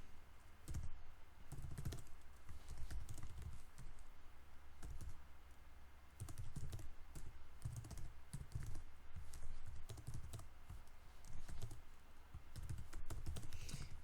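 Continuous typing on a computer keyboard while writing C code, with uneven bursts of key clicks and short pauses, close and steady, with no one speaking.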